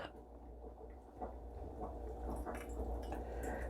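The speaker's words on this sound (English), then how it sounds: "So we're just going to pour that over the ice" Liquid is poured over ice for a virgin frozen strawberry daiquiri, giving a soft, steady wet trickle with squishy crackles and small drips that grow slightly fuller toward the end.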